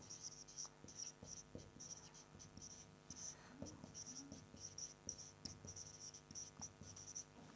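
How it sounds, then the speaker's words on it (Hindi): Marker or chalk writing on a classroom board during a Hindi lecture, with soft scratchy strokes and taps in an irregular rhythm, faint and close, under a quiet background hum and murmured speech. "यहाँ लिख देता हूँ"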